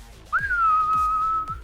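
Whistled melody in the video game Vampyr: one clear, sustained whistled note that swoops up then holds, over soft low rhythmic thumps.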